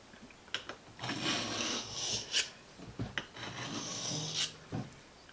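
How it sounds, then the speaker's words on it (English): A knife blade rasps repeatedly across a 400 grit sharpening block in close, steady back-and-forth strokes, each gritty scrape rising and falling, with no talking. "So this is a 400 grit sharpening block."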